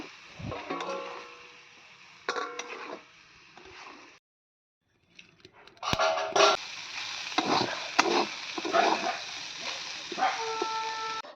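A spoon stirs potatoes and vegetable stems in a thin tomato curry in a pan with some water added, giving soft scraping and bubbling with a short silent pause partway through.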